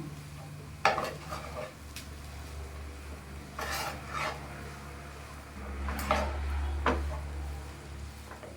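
A spoon scrapes and stirs banana flower palya in a pan, several distinct scraping strokes over a low steady sizzle, close and fairly loud, with no talking.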